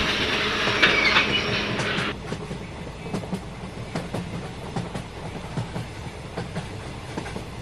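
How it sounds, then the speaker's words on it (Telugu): A goods train rushes past on the adjacent outside track, a loud dense roar and hiss for the first two seconds, then the steady rhythmic clatter of the passenger train's own wheels over rail joints. "పక్క నుండి గూడ్స్ ట్రైన్ అనేది వెళ్తుంది"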